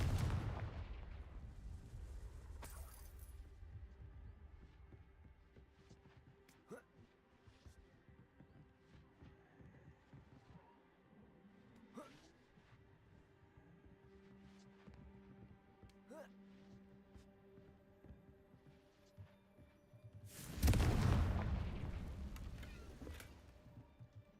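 Confringo explosive spell blasts in a Harry Potter video game: a loud booming burst at the start and another near the end, with faint crackling and scattered impacts in between.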